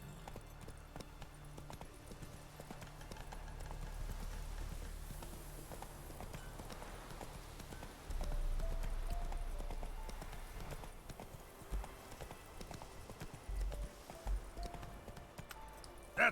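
A horse's hooves clip-clop steadily in The Witcher 3 video game, a continuous even gait under soft background ambience, fairly close and moderately loud.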